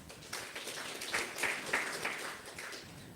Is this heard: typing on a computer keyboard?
no